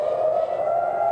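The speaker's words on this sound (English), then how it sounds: "These sirens that you hear off in the distance, again, are used to warn the population to get into shelters." An air raid siren wails over Tel Aviv, heard as a single sustained, steady tone that holds at an even level throughout, without speech.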